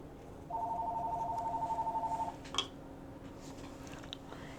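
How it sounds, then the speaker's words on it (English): A telephone rings with one long, warbling electronic trill that runs for nearly two seconds at moderate loudness. A single sharp click follows, then quiet room tone. "Phone always has to ring during a video."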